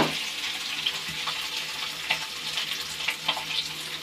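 Boiled mashed potato dropped into hot oil with cumin seeds in a wok, giving a steady close sizzle and crackle with a few brief scraping accents and no voices.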